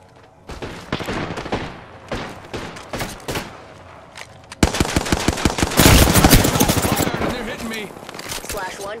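Gunfire in the video game Apex Legends, with rapid automatic bursts and single shots that build into a loud, sustained volley, mixed with in-game voice callouts.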